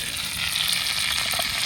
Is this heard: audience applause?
no